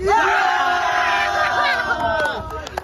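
A loud crowd roars and yells together, sustained shouting voices building then fading into scattered cries.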